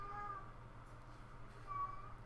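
A house cat cries in the background, two faint drawn-out meows at the start and end, thin and distant over a low steady room hum.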